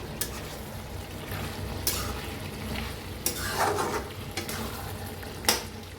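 A spatula stirs a cooked brinjal and potato curry in a pan, scraping and clinking in irregular strokes over a soft steady sizzle, with no voices.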